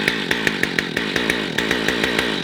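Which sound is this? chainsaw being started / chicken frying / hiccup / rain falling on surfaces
chainsaw being started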